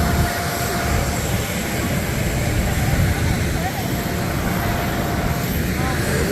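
Airplane engine roars at an airport as a passenger steps off a bus to board, a steady loud broadband rumble with a faint voice under it.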